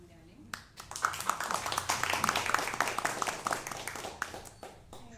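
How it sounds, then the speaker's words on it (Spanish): An audience at a Spanish-language poetry book presentation bursts into warm, steady applause welcoming a speaker, many hands clapping together for several seconds before fading. "Recibamos con aplausos a María Belén."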